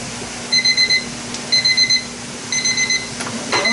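A kitchen timer goes off after pears are canned, sounding loud repeated bursts of rapid high beeps in groups of four or five, separated by short pauses, over a low steady hum.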